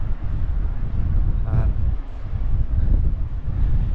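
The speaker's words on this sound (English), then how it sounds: "it's extremely windy." Strong wind buffets the microphone on an exposed stretch of coast beside England's first castle, a constant loud low roar with gusts rising and falling throughout.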